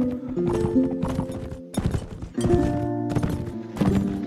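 Horse hooves clip-clop steadily during riding in the video game Fire & Sword, a brisk rhythmic gait mixed with game music tones, with a whinny or two near the front.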